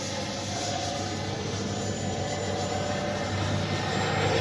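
An FMS Avanti S 90mm RC jet flies overhead with a steady, even roar that holds at a constant level throughout, with no talking.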